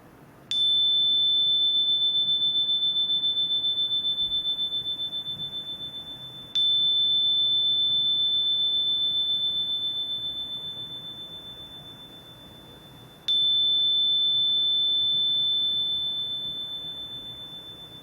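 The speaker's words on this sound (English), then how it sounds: "we open this space of conversation and connection and magical co-creation with inviting the sound of the bell." A single meditation bell tone rings three times at even intervals, each clear strike sustaining and slowly fading in a quiet room.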